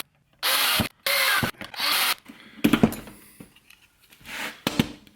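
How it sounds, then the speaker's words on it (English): Three short bursts of a whining Harbor Freight power drill, close up, followed by grinding and ratcheting as the bit works through plastic on a Roku 3. "we're using a Harbor Freight Goodwill drill as well"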